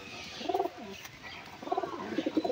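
Close, low cooing comes from a domestic hen pigeon held in a home pigeon loft. It arrives in two bursts of throaty, rolling coos separated by a short quiet gap, with no voices present.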